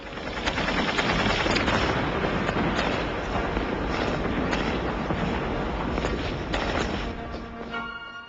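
Heavy sustained gunfire from German defenders on the mole at Zeebrugge during the Royal Marines raid, a dense, continuous roar of rapid shots and crackling bursts, loud and close throughout with no speech.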